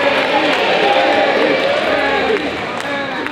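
A live British crowd at the Arnolds 2021 lets out a sustained, loud collective murmur and jeer that holds steady for a few seconds before easing slightly.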